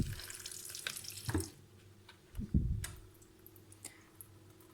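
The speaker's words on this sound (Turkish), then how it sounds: "Alt kısımdan da suyun aktığına dikkat edelim." Water running down through an orchid pot after watering, a soft trickle and splash with a few clicks and drips, close and fairly quiet, with no voices.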